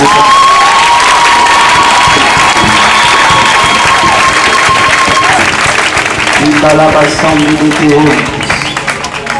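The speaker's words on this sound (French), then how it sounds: "Est-ce qu'on ne peut pas acclamer le Saint-Esprit?" A church congregation at a healing service bursts into loud, sustained cheering and applause with shouting voices, staying loud throughout and easing off slightly at the end.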